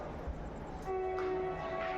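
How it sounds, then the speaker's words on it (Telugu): At Dhone railway station in the evening, a train sounds a short, steady horn blast as it pulls away, over a low background rumble. "ట్రైన్ కదిలిపోయిందనమాట."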